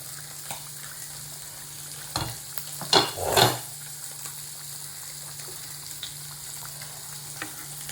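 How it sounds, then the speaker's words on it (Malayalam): Bitter gourd curry simmering in a pan, a faint background bubbling and hiss with a brief louder burst of sputtering and a clatter midway. "നമ്മുടെ പാവയ്ക്കാക്കറി ഇവിടെ തിളച്ച് വരുന്നുണ്ട്"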